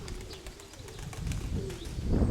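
Pigeons coo softly and repeatedly, low throaty calls layered over a busy outdoor background with occasional faint chirps.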